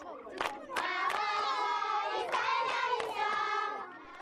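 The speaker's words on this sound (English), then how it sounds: "Show up in an African village and the children clap their hands and sing songs of welcome" Children in a Sierra Leone village sing together in a loud chorus with sharp hand claps at an uneven beat, near and lively throughout.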